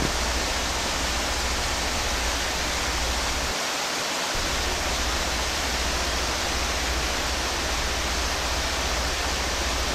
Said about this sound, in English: there's a nice creek right beside the property as well